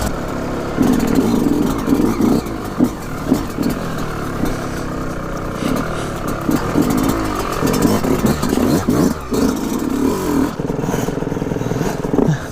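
A 2020 Yamaha YZ125 two-stroke motocross bike fitted with a full Pro Circuit exhaust, VHM cylinder head and Voisin reeds revs repeatedly, its close, loud engine note rising and falling in sharp bursts.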